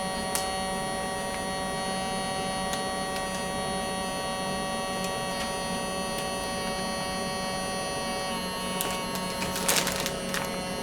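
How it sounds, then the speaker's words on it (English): Small electric pump drawing air out of a vacuum storage bag, a steady droning hum with a high whine, fairly quiet and unbroken, with a few faint clicks and rustles near the end. "Take the pump, put it onto the valve, and pull out the corners of your bag as it's drawing out the air."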